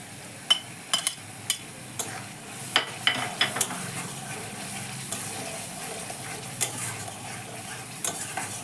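Soaked cashews and raisins fry in a pan of spiced oil for egg korma. A low, steady sizzle runs throughout, broken by scattered clicks and scrapes of a stirring spoon against the pan.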